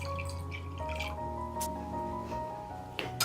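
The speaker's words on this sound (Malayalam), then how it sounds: "ഇളം ചൂടുള്ള വെള്ളമാണ് ഒഴിച്ചു കൊടുക്കുന്നത്." Lukewarm water, about one and a half cups, poured into a bowl holding instant yeast for a layered dough, giving a steady close trickle and splash with a few small drips.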